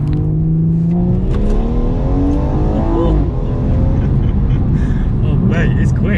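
A stage 2 tuned BMW M240i fires up and pulls away, its engine revving through rising pitch sweeps close by, with a voice talking over it.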